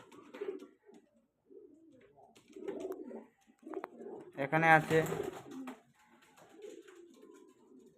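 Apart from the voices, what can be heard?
pigeons cooing in a loft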